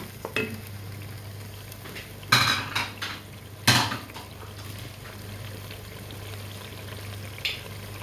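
Garlic cloves and food fry together in a pan, with steady sizzling broken by several loud clanks and scrapes of utensils stirring against the metal.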